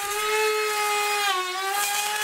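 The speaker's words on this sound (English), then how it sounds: "what I've got is a bearing guided router bit." A bearing-guided router bit spins in wood with a loud, steady high-pitched motor whine, its pitch sagging briefly midway as it takes the load, then recovering.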